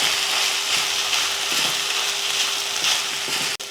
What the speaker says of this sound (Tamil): அடுப்பை சிம்மில் வச்சுட்டு லைட்டாக கிளறி விடணும்